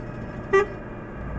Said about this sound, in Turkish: Kornalarımız falan efsane.